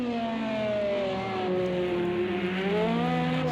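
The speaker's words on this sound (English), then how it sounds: "Listen to that Toyota. It screams V6." A Toyota V6 LMP race car engine screaming in a Le Mans 24 Hours racing game session, with a high rising-and-falling whine as the revs climb, shift and pull past, loud and steady with no speech.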